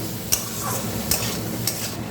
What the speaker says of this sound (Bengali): এবার সব কিছু মিশিয়ে নিয়ে আলু কুমড়োটাকে ভাজা ভাজা করে নিচ্ছি